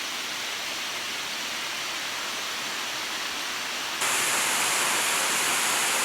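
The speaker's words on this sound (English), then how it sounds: "The waterfall's coming down the rock." A waterfall in Wales pours down over rock, a steady, loud broadband rush with no talk, growing brighter and stronger for the final two seconds.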